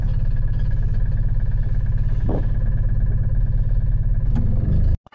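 A Ligier JS50 Young microcar circling a small roundabout, its small engine droning loud and steady from inside the cabin with a brief rise in pitch before the sound cuts off abruptly.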